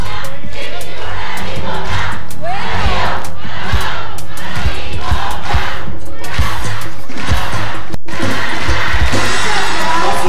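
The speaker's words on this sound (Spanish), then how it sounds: "Laura, qué aplauso tan bonito del público." A studio audience on the TV show Muévete erupts for actress Laura Flores, loud and dense clapping mixed with cheering and shouting that fills the room for about ten seconds without pause.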